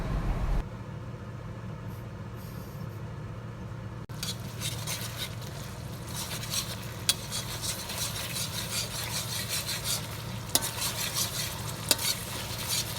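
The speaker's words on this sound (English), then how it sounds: "we add a little bit of mayonnaise and mix with the sardine that have been added" Sardine and mayonnaise being mixed together, a steady scraping stir with a soft sizzling wash throughout, continuous and close with a few sharper clicks, no talking.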